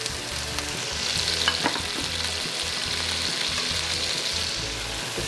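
Carrots hit a hot frying pan for a beef bourguignon, giving a steady, continuous sizzle and crackle with a brief stirring clatter near the start, close and fairly loud with no talking.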